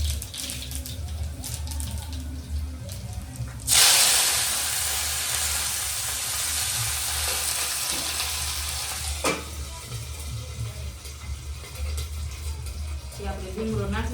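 Curry leaves sizzling in hot oil, a loud sudden hiss bursting in and holding steady before settling back under a speaking voice.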